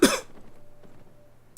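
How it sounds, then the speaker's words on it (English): A single sharp cough bursts out close to the microphone and fades into quiet room tone, with no talking. "I'm sorry for coughing."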